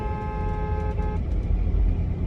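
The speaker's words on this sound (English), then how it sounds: "Sorry, I had to beat my horn." A driver honks a car horn at a U-Haul truck that stopped suddenly ahead, a sustained horn blast lasting about a second over rumbling road and engine noise, then the vehicle drone continues.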